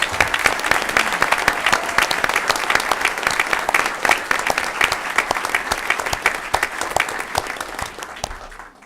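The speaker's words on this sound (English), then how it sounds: "Let's give him another big round of applause." An audience at a school district board meeting breaks into sustained clapping, a dense, lively round of applause from many hands that holds steady before tapering off at the end.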